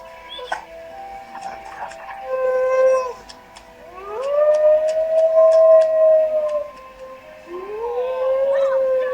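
A chained dog howls from its kennel at night in long, wavering wails, three drawn-out cries separated by short pauses, with brief sharp yips mixed in.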